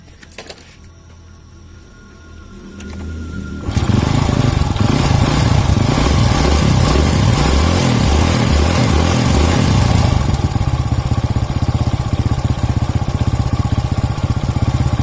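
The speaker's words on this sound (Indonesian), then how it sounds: "Oke, bisa kedengaran ya suara mesinnya ini." A rebuilt Honda Grand motorcycle engine with an FIM piston and Win 100 camshaft starts and settles into a steady, loud close-up idle, with a faint light cam-chain rattle over the even rhythmic thrum.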